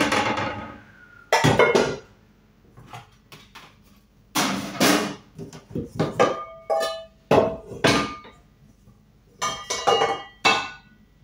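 Metal cooking pans (kawali) being shifted aside in a home kitchen: a series of sharp clanks and ringing clinks, close and loud, in uneven bursts with short pauses between, no voices.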